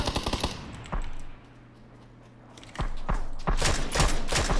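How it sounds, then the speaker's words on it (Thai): Rapid automatic gunfire in the battle royale game PUBG, loud close bursts of rattling shots, a short lull with lower rumble, then sustained heavy firing again. "ใครยิงอ่ะ เพื่อนเหรอ"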